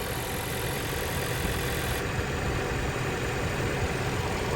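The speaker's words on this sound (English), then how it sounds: "that'll be a snapshot of the startup profile of this electric high-speed 3-phase high voltage compressor" A Toyota RAV4's electric high-speed three-phase high-voltage compressor runs as a steady, dense whirring hum at constant level, with a slight shift in its upper hiss partway through and no voices.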